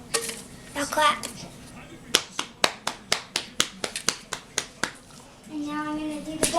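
Hands clap at home in a quick series of about a dozen sharp, evenly spaced claps, close and distinct, with someone talking before and after.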